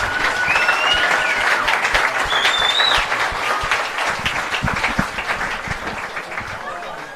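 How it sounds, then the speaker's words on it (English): A crowd at a football match between Albion Park City FC Invitational XI and Wollongong Wolves gives volunteer firefighters a steady round of applause, dense clapping throughout with a few whistles and voices mixed in, easing slightly toward the end. "let's give them another round of applause for what they've done"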